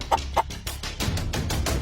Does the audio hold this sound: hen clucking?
yes